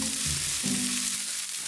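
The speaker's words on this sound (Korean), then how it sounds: "베이컨을 먼저 넣어서 기름을 내고 잠시" Bacon sizzling steadily in a pan as its fat renders, a continuous close frying hiss with no talk.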